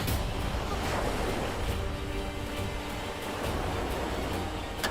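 Continuous churning wash of water surging in, with gusty wind and occasional splashes and knocks, steady and fairly close.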